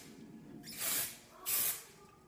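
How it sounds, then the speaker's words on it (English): Two short bursts of Big Sexy Hair spray clay misted onto hair, each a soft airy hiss lasting about half a second, close and clear against a quiet room. "Then I'm just going to use some spray clay by Big Sexy Hair."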